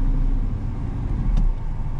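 Cars drive on a road near a pilgrimage center, giving a steady low engine rumble close by, with one brief louder swell as a vehicle moves past and no talking.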